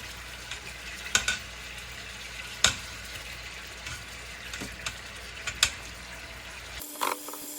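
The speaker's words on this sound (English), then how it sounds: "And while we're getting a nice little sear going on that" Pork searing in warm oil for a stew, a steady low sizzle with a few sharp pops and crackles scattered throughout, ending in a brief louder clatter near the close.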